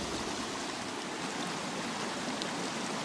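Water streaming along an old mine channel at Glen Roy Mines on the Isle of Man, a steady close rushing and splashing flow with no pause.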